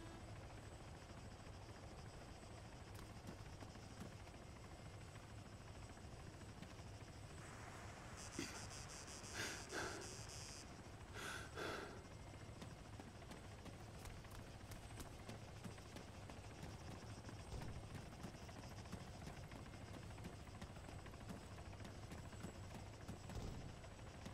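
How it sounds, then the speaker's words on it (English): A faint, continuous rotor drone of helicopters circling somewhere in the distance in the video game Arma 3, with a few brief rustling and clattering noises partway through. "The helicopters, I think, are looking around for the last man"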